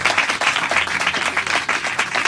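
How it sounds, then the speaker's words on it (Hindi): Church congregation clapping loudly and steadily in a rapid, continuous rhythm throughout, with no voices standing out. "खुदा के रूह के लिए जोरदार तालियां बजाकर खुदा को मानते जाएंगे"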